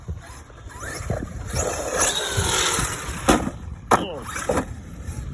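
A Traxxas X-Maxx 8S RC car drives and bashes outdoors, its electric motor whining up and down in bursts with a couple of sharp impact-like spikes, fairly close and loud.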